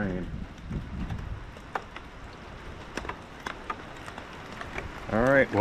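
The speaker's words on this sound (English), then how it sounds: "Oh, here comes the rain." Outdoors beside a newly uncrated log splitter, rain patters down in scattered drops and light hiss, mixed with wind buffeting the microphone and someone speaking at the start and end.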